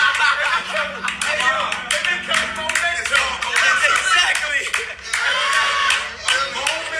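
An audience clapping and laughing at a live talk show, with bursts of hand claps and crowd reaction mixed under voices talking over it.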